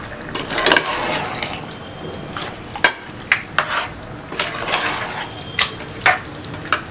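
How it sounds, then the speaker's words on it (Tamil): Chicken curry with potatoes is stirred in a pressure cooker: a ladle scrapes and knocks against the metal pot, giving uneven scraping strokes and sharp clacks over a wet, thick bubbling sound from close by. "இதை நல்லா கலந்து விடலாம்."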